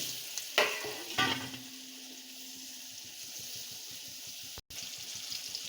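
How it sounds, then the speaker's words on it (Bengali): Small peeled potatoes fry in leftover fish-frying oil with a constant close sizzle, opening with a couple of sharp clatters and a short break near the end. "এই যে মাছ ভাজার তেলেই ছোট আলুটা আমি ভেজে নেব"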